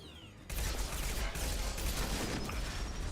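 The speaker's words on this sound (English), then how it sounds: "Stop firing so I can shoot you." Gunfire in Mass Effect Legendary Edition: a dense, loud burst of rapid shots starts abruptly and continues nonstop as a heavy, crackling barrage.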